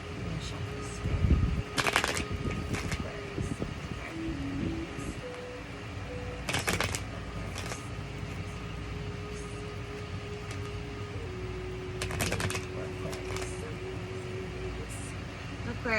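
Tarot cards are shuffled in short riffling bursts, close to the microphone, separated by quieter stretches with a faint steady hum in the background.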